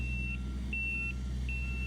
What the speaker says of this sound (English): Trucks also should be equipped with and use a backup alarm as per state law.